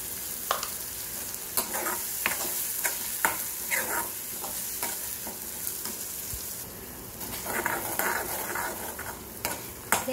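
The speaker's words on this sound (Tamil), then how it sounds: "பூண்டு வதங்கிடுச்சு." Ground garlic paste frying in oil with turmeric for a spicy garlic pickle, a steady sizzle broken by repeated scraping and stirring strokes of a spoon in the pan, close and continuous without talk.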